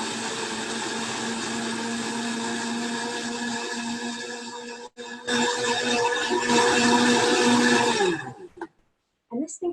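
A big-motored kitchen blender runs loud and steady for about eight seconds with a sustained grinding hum, changes pitch briefly midway, then winds down and stops, leaving near silence.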